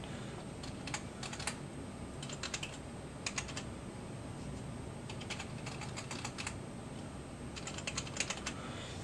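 Keys clatter on a computer keyboard in quick bursts of rapid typing separated by short pauses, close and fairly soft against a quiet room.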